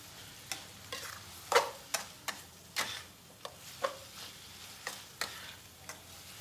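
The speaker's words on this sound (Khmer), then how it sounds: "រួចយើងកូរវាឲ្យសព្វឲ្យចូលជាតិគ្រឿងក្រូចដែលបងយើងបានផ្សំហ្នឹងយើងព្យាយាមកូរវាឲ្យសព្វ" Meat and spice paste being stirred in a pan for a Khmer prahok dish, with a spoon scraping and tapping the pan in irregular, sharp clicks over a faint sizzle.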